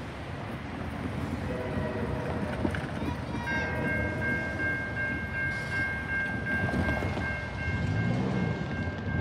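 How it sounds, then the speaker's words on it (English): A MARC commuter train runs past nearby with a steady rail rumble, brief horn-like tones ringing out partway through, while people talk over it. "Today we've got the last train of the day"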